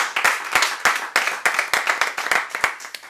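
An audience claps at a Portuguese storytelling show, a brisk, loud burst of many hands with sharp, uneven slaps, and no voices over it.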